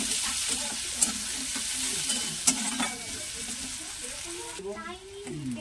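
Chopped onion frying in hot oil with whole spices and chilli in a pan, a steady close sizzle with a few sharp stirring clinks and spoon scrapes throughout.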